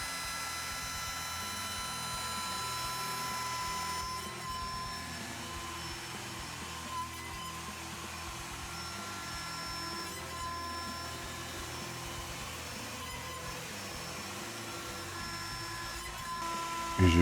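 A CNC machine milling an epoxy Telecaster-style guitar body hums with a steady, tonal mechanical whine and layered harmonics, continuous and fairly quiet, with brief cutting rasps.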